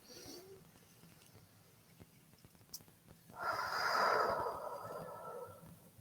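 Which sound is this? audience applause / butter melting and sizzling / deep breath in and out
deep breath in and out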